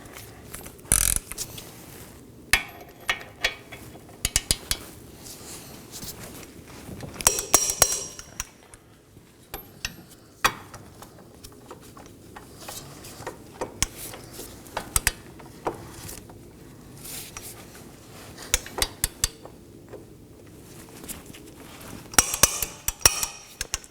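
Metal clanks and ratcheting as CV axle bolts are snugged down with a 21 mm socket wrench while the front CV axle is replaced on a 2018-2024 Chevrolet Equinox 1.5L, with scattered sharp ticks and knocks in bursts over quiet workshop background.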